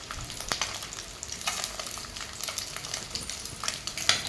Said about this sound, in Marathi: तेलामध्ये छान असं परतून घेतल्यानंतर जेवढं आपण करून ठेवले तेवढं सगळे आपल्याला अंडी ह्याच्यामध्ये टाकून घ्यायचे आहेत